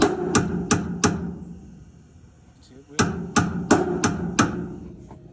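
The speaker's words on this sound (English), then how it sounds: "I've hit it with a hammer, so I'll show you." Sharp metallic hammer strikes ring out in two bursts, four quick blows, a pause, then six more, close and loud.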